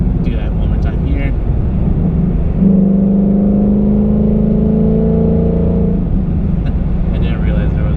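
A 2018 Ford Mustang GT with a Roush resonator-delete X-pipe drones steadily in track mode, then its exhaust rises into a deeper, louder tone as the car accelerates for a few seconds before easing off.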